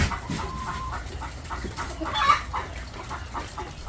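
Farm chickens cluck in short, scattered bursts close by over a low outdoor background, with one sharper squawk partway through and no one speaking.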